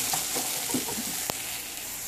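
Nopales sizzle and fry in a pan as they are stirred, a steady close crackle with a few brief scraping stirs and one sharp knock, no voices.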